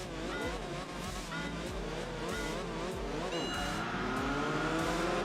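A rally-derived road car engine in Enthusia Professional Racing revs high and loud at Tsukuba, rising and dropping through gear changes with a steady racing drone and no talking.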